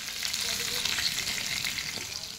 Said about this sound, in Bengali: এইবার ওই একই তেলেই কেটে রাখা গাটি কচুগুলো আমি ভেজে নিচ্ছি হালকাভাবে।